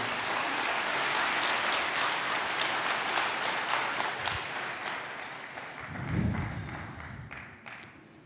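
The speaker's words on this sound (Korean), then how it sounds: "다시 한번 큰 박수 부탁드리겠습니다" A large audience at a Korean gathering claps in sustained, dense applause that gradually thins out, with a brief low thump near the end.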